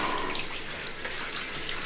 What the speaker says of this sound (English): So we're gonna rinse the soap from the top and let it go down.